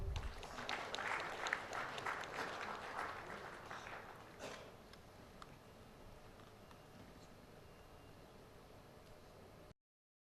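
Audience applause at the India Insurance Summit & Awards 2019 rises thick and busy for about four seconds, then thins out to scattered claps and dies away into near silence.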